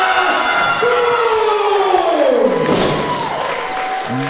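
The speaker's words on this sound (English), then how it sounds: "Huge response from the crowd for the champ" An arena crowd at a 2018 Zero1 USA wrestling invitational roaring loudly for the champion, with whistling and a rising and falling siren-like horn riding over the noise.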